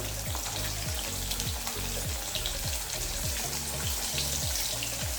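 Fish frying in hot oil on a just-switched-off stove, a loud dense crackling sizzle with rapid bubbling pops running continuously and close up, no voices.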